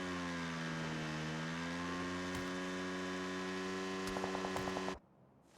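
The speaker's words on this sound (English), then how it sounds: "the HD sounds on the motorbike are sounding pretty good" A motorbike engine in an FPP clan-war league video game drones with a steady, rising and falling tone, running continuously and loud before cutting off abruptly near the end.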